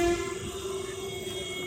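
A train passes along a railway track with a steady low rumble, while a sustained, horn-like tone rings over it at moderate loudness.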